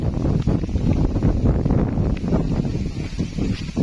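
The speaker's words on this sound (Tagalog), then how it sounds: "Nagpaparamdam na ang hangin." Wind picks up outdoors and buffets the microphone in a continuous loud, low rumble with gusty surges and rustling, and no clear voices over it.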